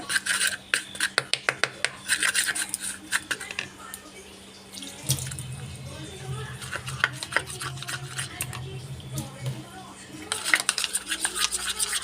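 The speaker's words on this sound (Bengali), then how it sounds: "এবার এই সমস্ত উপাদানগুলো আমি ভালো করে মিশিয়ে নেব" A paste of gram flour, rice flour and shampoo is stirred in a bowl, giving wet, rhythmic scraping and rubbing strokes in quick bursts with short pauses, close and moderately loud.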